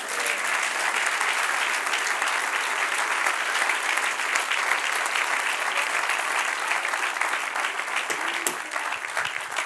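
Congregation applauding at a church service, a steady dense wash of clapping that holds for the whole stretch, fairly loud and close, with no talk over it.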